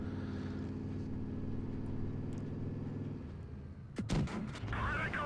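In World of Tanks Blitz, a Valentine tier 4 British light tank's engine gives a low, steady rumble, then a single cannon shot booms out near the end, followed by a brief echoing crackle.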